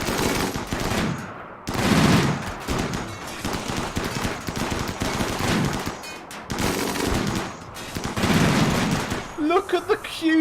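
Big guns firing in a RimWorld battle: dense, repeated bursts of heavy gunfire roll on through the whole stretch with short gaps, loud and close, ending in a few sharper tonal blasts.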